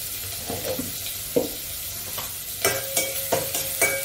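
Curry leaves sizzle in hot oil in a frying pan while being stirred, for a Mangalorean chicken sukka, with steady frying hiss and several distinct scraping stirs of a spoon close by.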